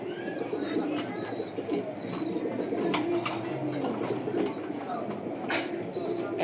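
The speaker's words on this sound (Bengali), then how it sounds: "দেখেন এগুলো কবুতর" Racing pigeons coo in a steady chorus, several birds overlapping in soft repeated calls, close and continuous with faint chirps throughout.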